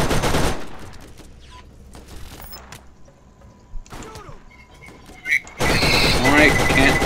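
Gunfire in the Borderlands video game, a burst of rapid shots at the start, then quieter in-game clanks and mechanical effects, before loud firing returns near the end.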